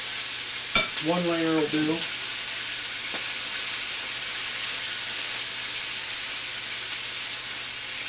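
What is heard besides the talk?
chicken frying in a pan for Thai basil chicken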